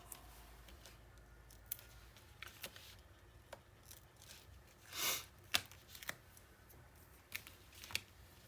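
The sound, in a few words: peeling backing off album craft pieces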